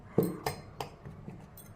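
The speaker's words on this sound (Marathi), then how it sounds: "आता हे भोपळ्याचे तुकडे मी मिक्सरच्या भांड्यात घालते" Cooked pieces of red pumpkin dropped into a mixer jar, giving a few soft clinks and thuds spaced out over a couple of seconds, close and fairly quiet.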